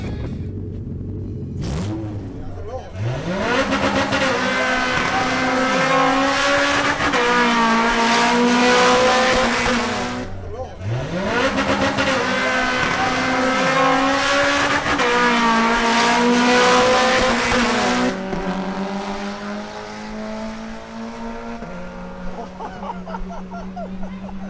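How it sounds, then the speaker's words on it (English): A Mitsubishi Lancer Evolution 8 launches on a timed acceleration run, its engine revving hard and climbing through several gear changes with a brief tire chirp, loud and close, then dropping back to a lower drone as it pulls away. "Next up is Daniel Osorio in his Mitsubishi Lancer Evolution 8."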